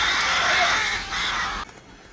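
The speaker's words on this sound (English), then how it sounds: "They're fighting over some dead stuff. Like, actually fighting. It's not usual for vultures." Vultures squawk harshly in a scene from the 1987 film Predator, a burst of raspy caws lasting under two seconds before cutting off abruptly.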